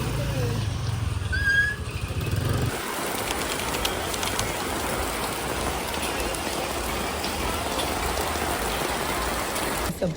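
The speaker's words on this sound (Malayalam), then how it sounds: "പുറത്തൊക്കെ വൻ മഴയാണ്" Heavy rain pours steadily outdoors as a dense, continuous hiss, with a brief bird call and a low rumble in the opening seconds before the downpour alone carries on.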